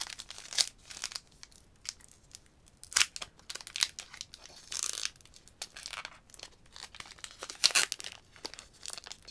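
A Pokémon card booster pack wrapper from a pre-release kit crinkles and tears in short, sharp bursts, close and fairly quiet, with gaps between each rip and crumple.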